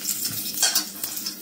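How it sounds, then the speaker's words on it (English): Chillies fry in a pan with a bright, steady sizzle and a brief scrape of a utensil, close and moderately loud over a short stretch. "I am frying my chilies."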